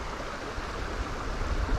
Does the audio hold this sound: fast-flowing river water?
yes